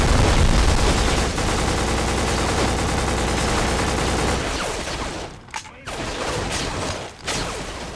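Dense rapid gunfire and explosions from the PS2 shooter Black crackle loudly and continuously, then thin out into a few separate bursts and blasts near the end, with some talk underneath.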